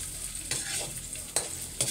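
Sliced onions sautéing in a hot pan, a continuous sizzle broken by several sharp stirring scrapes of a utensil, close and moderately loud, with no voices.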